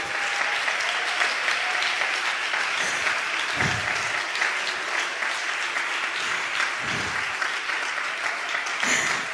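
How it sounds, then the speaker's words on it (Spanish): Congregation applauding during an evening church service, steady dense clapping from a crowd throughout, moderately distant, with a few louder low thumps and faint voices underneath. "Dale un aplauso a Él en esta noche."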